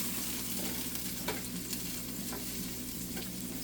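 Something melting down in a pan, probably butter for butter chicken poutine, gives off a soft, steady low sizzle with a few faint crackles, quiet and alone over a low background hum.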